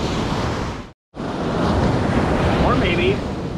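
Surf at Navarre Beach washing ashore, a loud steady roar of waves and wind buffeting the microphone, cut out briefly near the start.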